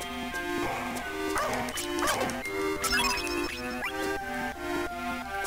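Dogs bark and yip in the video game Boktai 2, short bursts mixed into steady, busy game music with chiming melodic tones throughout.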